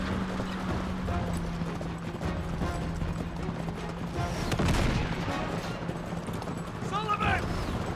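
Horse hooves galloping in Uncharted 3, a steady clip-clop running under game music and background effects, with gunfire and a brief whinny-like burst near the end.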